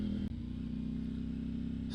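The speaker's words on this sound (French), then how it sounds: "on a aussi cette mélodie qui est aussi très présente, très sympa, ce son, ce chant du moteur qui est agréable" A KTM Duke 790 motorcycle engine fitted with a full Akrapovič exhaust line hums at a steady idle, a close, continuous low drone with an even pulsing beat and a brief click near the start.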